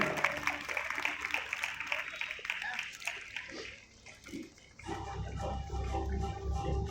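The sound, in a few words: round of applause at award ceremony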